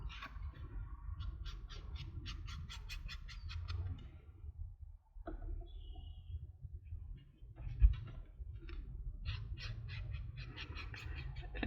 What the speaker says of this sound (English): I hear a red-winged blackbird around here like every day